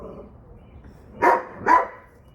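A dog barks twice in quick succession, sharp and fairly close, over a quiet low room murmur.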